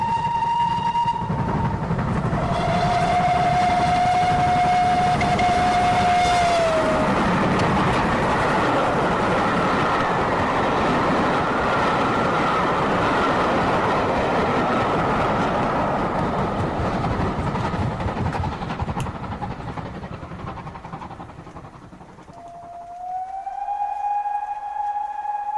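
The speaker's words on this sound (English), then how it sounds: "I'll wait here until the train passes." A train rumbles past through a deep railway cutting at a lonely post, a long, loud roar with rattling wheels building, holding for about twenty seconds, then fading as a long horn-like whistle sounds at the start and again at the end.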